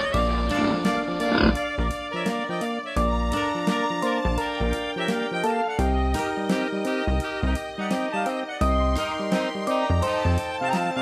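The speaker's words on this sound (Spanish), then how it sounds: "Pig." A pig oinks in a children's Spanish colour-learning song, with repeated grunting calls set against a bouncy, rhythmic musical backing that runs throughout.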